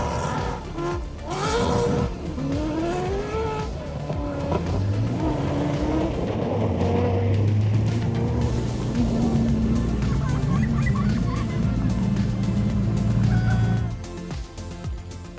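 A Ferrari-engined Subaru rally car on a stage of the ARA Olympus Rally, pitched sideways to warm its tyres, its engine loud and close with rising and falling revs and squealing tyre tones throughout.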